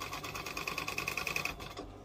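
A sewing machine stitching a bag made from recycled old material, a quick rhythmic run of needle strokes for about one and a half seconds that then stops.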